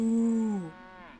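A cow in Divinity: Original Sin 2 gives one loud, drawn-out moo that sags in pitch and trails off into a quieter tail, heard alone without talk.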